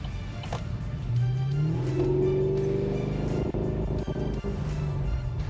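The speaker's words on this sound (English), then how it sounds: "The exhaust makes the right amount of snap, crackle and pop." An HSV GTSR's engine and exhaust rev and accelerate, a deep rising roar that climbs through gears, loud and close, with brief pops and crackles near the end.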